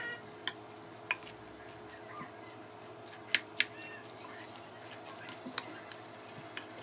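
Tuna omelette mixture being stirred in a bowl, with sporadic sharp clinks of a utensil against the bowl over quiet background noise, faint and irregular.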